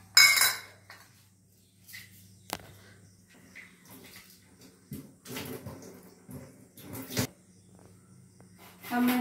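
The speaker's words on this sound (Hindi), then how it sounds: "ये देखिए, एक कटोरी चावल है, मैं इसे पहले धो लेती हूँ अच्छे से।" A bowl of rice is washed by hand with intermittent splashing water and scattered clinks of a metal bowl and utensils. The sounds are quiet and close, broken by pauses, with no speech.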